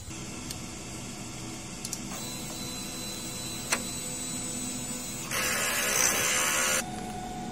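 DTF printer running a print head clean, a steady mechanical hum with occasional clicks and a louder whirring pump or motor stretch partway through.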